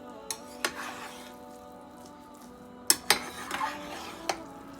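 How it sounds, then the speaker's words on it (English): Ingredients for Gambian futo being stirred together in a pot, with scraping utensil strokes and a few clinking knocks against the metal, close and clear, with no talk. "Just mix it all together."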